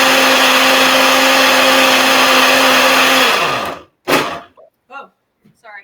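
A kitchen blender whirs loudly and steadily while blending herbs with vinegar for an infused vinegar, then winds down and cuts off, after which brief voices are heard.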